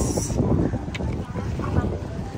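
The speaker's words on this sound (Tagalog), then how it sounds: "A beautiful motorboat tour around Nami Island." Motorboat ride around Nami Island on a cold, windy day, a steady broadband engine and water rumble with wind buffeting the microphone throughout, voices faintly mixed in.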